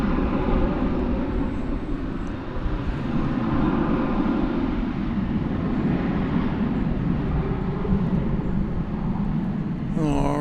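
A Boeing 777 airliner on the move at DFW Airport gives a steady, broad engine roar and rumble that stays loud and constant throughout, heard at moderate distance outdoors.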